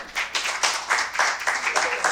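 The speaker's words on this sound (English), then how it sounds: "give her a round of applause" A small audience claps in a brief, steady round of applause for a professor being introduced for an interview, the individual claps fairly close and distinct.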